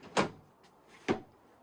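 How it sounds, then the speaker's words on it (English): Full-extension pull-out drawer in a 2023 Entegra Odyssey 27U RV, heard as two sharp slides-and-stops about a second apart, close and fairly quiet with no talk. "And then there is pull-out drawers here, full extension, just like the others."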